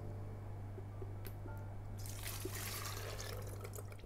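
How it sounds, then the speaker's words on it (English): Melted beeswax herbal salve with cayenne and basil is poured into a jug, giving a soft, steady liquid trickle and squishy drip over a constant low hum, with the pouring growing brighter and fuller in the second half; no one speaks. "Carefully pour it into a jug"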